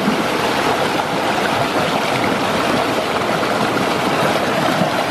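WaterLily turbine spinning in water after a night out: a loud, constant broadband rush of flowing water with a faint mechanical whir, steady and unbroken throughout.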